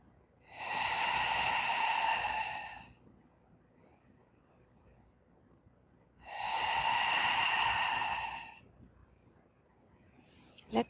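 Two long, slow exhalations during a yoga stretch, each a steady breathy rush lasting about two seconds, separated by quiet pauses, close and clear with no talking over them.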